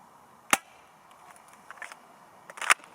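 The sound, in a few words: CZ75 SP-01 Shadow airsoft pistol firing shots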